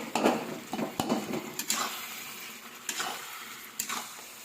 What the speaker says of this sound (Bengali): বিলাতি বেগুনটা একটু গলিয়ে দিলাম